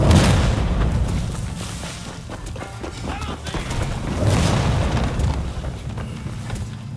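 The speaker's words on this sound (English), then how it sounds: "Bastards have a mighty powerful cannon." A powerful cannon fires in the samurai action game Rise of the Ronin, booming heavily in two big swells over a dense low rumble and battle noise, with no clear voices.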